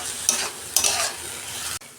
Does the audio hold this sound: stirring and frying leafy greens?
yes